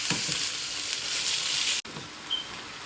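Chicken sizzles loudly in a hot pan, a dense, steady frying hiss broken by a brief pause before the sizzle resumes.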